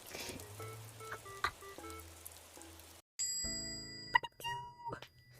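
Bell chime at a cafe door as someone enters, ringing clearly with a sustained tone after a stretch of quieter background sounds.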